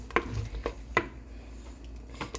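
Salt is stirred into a Jaffna-style squid curry in a pot, with several soft spoon knocks and scrapes in an uneven rhythm over low background noise, close and fairly quiet.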